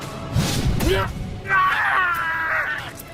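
A man shot in the limbs with arrows screams and groans in anguish, one strained cry followed by a longer wavering wail, close and loud in an animated drama.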